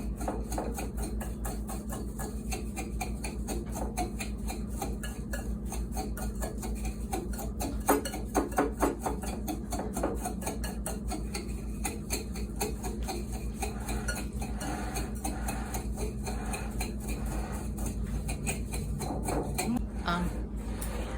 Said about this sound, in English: I'm going to keep stirring and see if I can get them